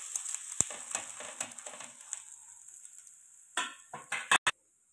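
Adai, a thick lentil pancake made with three dals, frying in a generous amount of oil on a pan over a medium flame, with a soft steady sizzle and crackle, a few clinks of pan or utensil, and sharp knocks near the end.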